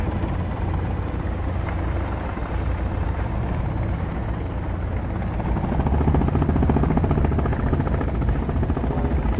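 A helicopter's steady, droning rotor noise in Sons of the Forest runs throughout, loud and continuous, swelling slightly toward the end.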